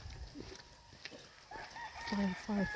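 Fighting roosters kept as gamecocks in Murcia, Negros Occidental, cluck and crow at moderate distance, with a couple of louder calls near the end over faint background voices.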